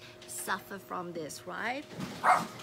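Several dogs bark in agitated bursts, some yips and a whimper among them, mixed with a person talking nearby after a cat leaps off a roof.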